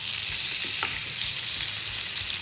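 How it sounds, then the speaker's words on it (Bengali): Food frying in oil in a pan makes a steady, close, crackling sizzle with small pops and a light stir partway through. "আগে এটা ভেজে নেব, আগে এটা ভাজবো"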